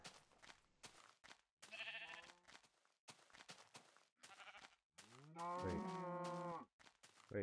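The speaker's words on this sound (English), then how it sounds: "there's cows now" Several drawn-out cow moos in Minecraft Alpha 1.1.2, loud and close, come in separate bursts with short pauses, along with bleating from sheep.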